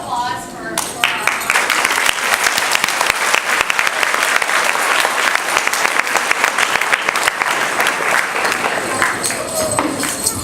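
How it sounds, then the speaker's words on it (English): Sustained applause from an audience at an elementary school graduation ceremony, dense loud clapping filling the room for about ten seconds after a brief opening of speech. "Last round of applause for our"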